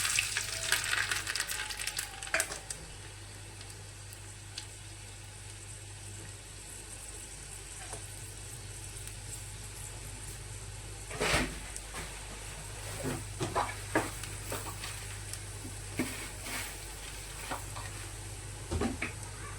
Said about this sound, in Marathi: मी अजून तडक्यामध्ये लसण टाकते